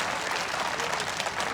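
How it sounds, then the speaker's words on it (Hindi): An audience at a Hindu Mahasabha gathering applauds in a continuous, fairly loud wash of clapping, welcoming Sadhvi Pragya. "एक बार जोरदार तालियां बजा के आप उनका स्वागत करें।"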